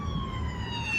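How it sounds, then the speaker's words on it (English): An ambulance siren wails steadily as it passes a car on the road, heard from inside the vehicle over a continuous low road and engine rumble. "Getting passed by an ambulance."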